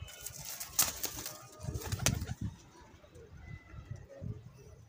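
Teddy breed pigeons heard close by, a few quick bursts of wing flapping over low, soft cooing and light rustling.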